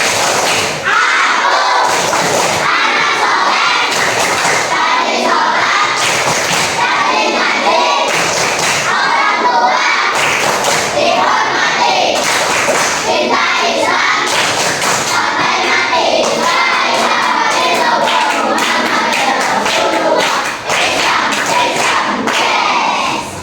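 Children in a grade 5 Islamic studies classroom perform the tepuk anak soleh clapping chant, with loud rhythmic group claps and shouted voices running steadily throughout, close and energetic.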